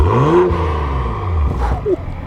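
A Gen 3 BMW B58 engine with an aftermarket downpipe revs with a low, rising exhaust rumble, swelling and falling a couple of times, close by and loud.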